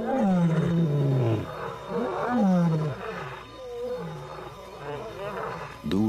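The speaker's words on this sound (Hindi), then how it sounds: "नदी के आसपास दहाड़ की आवाजें गूंज रही हैं।" Lions roar near a river in big cat country, deep drawn-out calls rising and falling in a continuous chorus that carries from a distance, with a narrator speaking over them.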